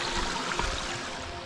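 Small waterfall on a creek tributary in bush behind Maleny, Queensland, a steady soft trickle and splash of water running continuously at moderate distance with no voices.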